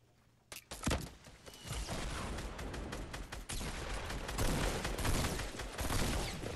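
Fortnite gunfire: after a quiet start, loud rapid bursts of shots come in close, then blur into sustained automatic fire with dense crackling reports that keep going to the end.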